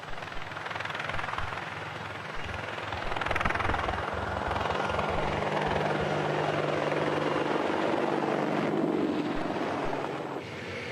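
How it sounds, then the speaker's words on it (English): A US Army Longbow Apache AH-64D attack helicopter flying at the Farnborough air show, a loud steady rotor thump and turbine roar that swells and holds as it passes, with wind buffeting the microphone. "It's the first time the Longbow Apache has flown at Farnborough"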